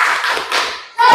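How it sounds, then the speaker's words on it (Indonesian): A classroom group claps the 'tepuk semangat' rhythm, a short burst of close, sharp patterned claps with a voice briefly mixed in. "Tepuk semangat."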